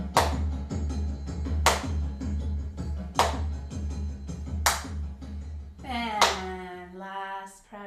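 Hand claps during a Kundalini yoga exercise, five or so sharp claps spaced roughly a second apart over low steady music, with a voice speaking near the end.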